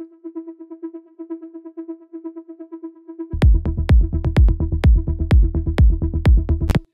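Melodic techno synth groove pluck, a rapid bouncing pattern of short tonal notes, soon joined by loud punchy kick-like hits in a steady beat; no voices.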